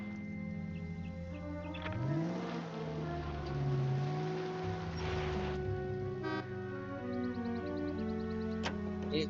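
Car engine in L.A. Noire hums steadily, then rises and bends in pitch as it accelerates before settling into a steady drive, with a few faint clicks and knocks over the moderate, continuous drone.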